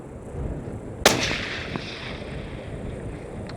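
A single sharp hunting rifle shot fired at an outdoor range on a ranch, loud and close, followed by a short decaying echo and quiet surroundings.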